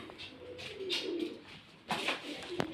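A pigeon coos in a few soft, low repeated phrases nearby, with faint background noise and short bursts of rustling between calls.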